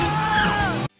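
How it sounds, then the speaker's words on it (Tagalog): The Wilhelm Scream sound effect in the animated film Madagascar: Europe's Most Wanted, a single loud, shrill male yell lasting under a second before cutting off abruptly into silence. "ang sigaw na Wilhelm Scream ay madidinig natin"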